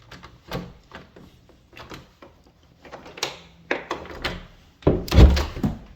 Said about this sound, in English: This must be that door to that back porch.